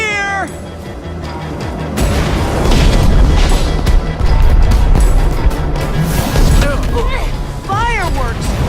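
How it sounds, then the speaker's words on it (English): Fireworks bursting in the Minecraft Story Mode video game, loud booms and crackles layered with game music and a creature's shrieking cries throughout, with whistling rising tones near the end. "Fireworks! Good thinking, Lucas!"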